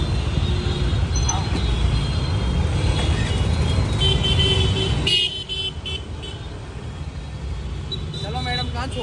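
A Suzuki Burgman Street scooter rides through city traffic, its steady engine and wind noise mixed with passing vehicles and occasional horn toots.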